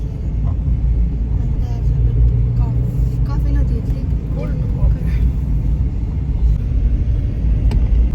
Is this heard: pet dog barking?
no